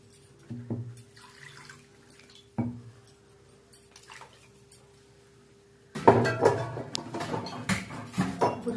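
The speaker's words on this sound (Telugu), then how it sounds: "ఇందులో కొద్దిగా వాటర్ పోసుకోవాలి." Water is poured into a pan for a raw mango curry: a few light clinks and drips first, then a louder, splashing pour for the last few seconds.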